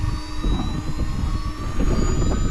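A model jet turbine on a Global Jet Club Hummingbird composite RC airplane, an ACE x-80 engine, spools up with a continuous whining hiss and rising tonal whine over a rumbling low end, loud and close, no voices.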